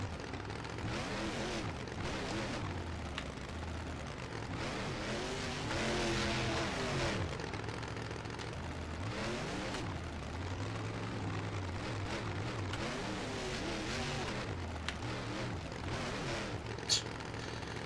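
A monster truck engine in the Rigs of Rods driving game roars and revs, rising and falling in pitch as it accelerates and strains, steady and continuous throughout.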